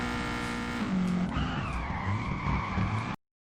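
Tires squeal and skid as a car drifts in Peak Angle Drift Racing, engine revving loudly underneath before the sound cuts off abruptly after about three seconds.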